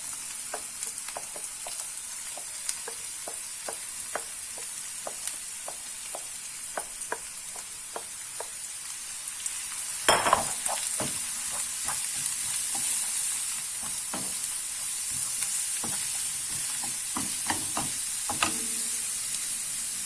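Grated zucchini fries in oil in a pan, a constant soft sizzle dotted with crackling pops and a brief louder burst of hissing partway through.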